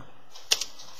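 A few quiet, sharp keystrokes sound on a computer keyboard as a web address is typed, spaced irregularly over a hushed room background.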